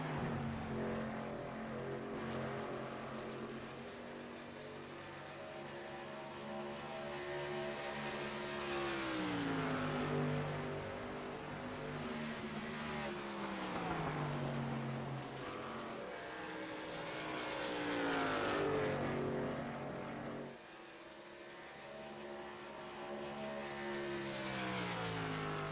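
Race trucks lapping the Charlotte oval give a continuous roar of engines, with pitch sweeps as they pass and a brief dip before the noise returns, fairly faint and heard without talk.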